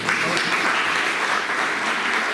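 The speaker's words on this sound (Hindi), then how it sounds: "जोरदार तालियां बजती रहनी चाहिए।" Loud, dense applause from a crowd at a youth event in Gorakhpur, a continuous wash of clapping that holds steady and close throughout.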